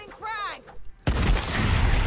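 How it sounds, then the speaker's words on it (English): Grenade explosions in the video game Gears Tactics: a brief voice is followed by a sudden, loud, sustained blast that roars and rumbles for about a second. "I love grenades like this."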